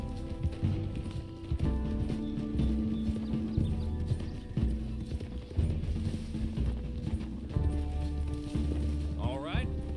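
Horse hooves clip-clop at a steady gallop in Red Dead Redemption 2, close and continuous with rhythmic thudding, a brief whinny near the end, while someone talks over it.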